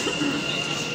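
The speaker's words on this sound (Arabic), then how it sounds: "كشوية غادي يلحق المترو" A metro train pulls in, a steady broadband rumble of wheels on rail with a thin high whine held across the moment, loud and continuous with no talk over it.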